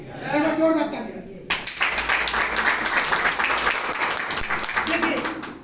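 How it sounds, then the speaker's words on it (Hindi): A voice speaks briefly, then loud applause erupts in a meeting hall, dense clapping from many people sustained for several seconds before speech resumes faintly at the end. "एक बार जोरदार तालियां।"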